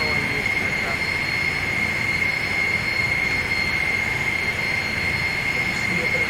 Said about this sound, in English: Another general aviation aircraft.